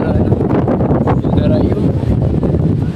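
Wind blowing outdoors, a steady loud rumbling buffet across the microphone that runs unbroken throughout, masking most other detail.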